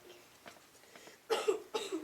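A sick young girl coughs a few times, weak and raspy at first and then two louder, harsher bursts, close to the listener with no talk over it.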